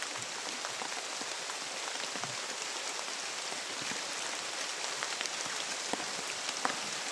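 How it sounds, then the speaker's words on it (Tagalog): Heavy, steady rain pours down, a dense hiss of drops drumming on surfaces with no pauses throughout. "Malakas pang ulan."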